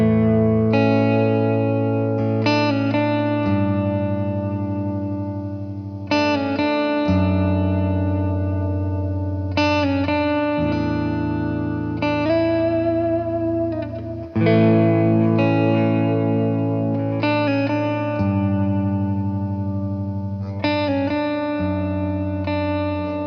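An Epiphone Riviera electric guitar in standard tuning plays sustained chords through heavy reverb, with several strums ringing out loudly and blending into a wash of echo.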